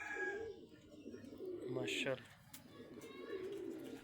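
Pigeons coo softly in a loft, a low rolling murmur running throughout beneath a voice that speaks briefly in the middle.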